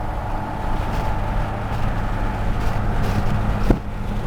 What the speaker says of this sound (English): we gotta give this guy a couple revs as he goes by